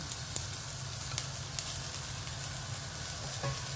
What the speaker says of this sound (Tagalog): fry lang natin siya hanggang sa maging translucent